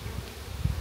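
Honey bees buzzing inside a natural-build hive, a steady close drone with low humming swells throughout and no voices.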